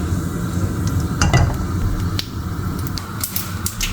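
Tadka tempering sizzles in a pan while baingan bharta is being cooked, a continuous frying hiss broken by scattered sharp pops and the clink of a utensil stirring.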